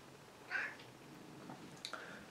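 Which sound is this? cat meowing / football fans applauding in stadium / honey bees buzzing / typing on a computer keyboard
cat meowing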